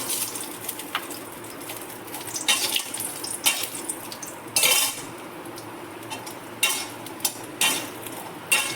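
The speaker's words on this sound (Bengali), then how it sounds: "তেলে আমি এবার বড়িগুলো ফ্রাই করে নেব লবণ দিয়ে" Bori lentil dumplings fry in oil with salt, giving a steady sizzle broken by repeated clinks and scrapes of a metal spoon stirring against the pan.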